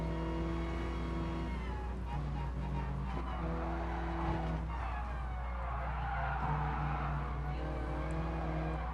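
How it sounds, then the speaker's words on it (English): Car drifting in the racing game Gran Turismo Sport, with a steady engine drone and harmonic tire squeal running through the whole stretch, continuous and fairly loud, with no voices. "A little drift action."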